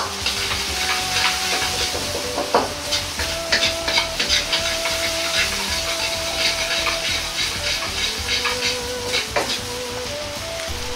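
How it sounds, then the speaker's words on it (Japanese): Green onion, ginger and garlic fry gently in oil over low heat, a continuous soft sizzle broken by small crackles and stirring clicks, with faint tonal hums in the background and no talk. "冷たい状態の油から薬味を弱火でじっくりと炒め"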